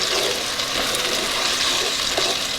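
Steady loud rush of water poured into a hot pan of cooking beef for bean and beef dip, a constant hiss and sizzle with no talking.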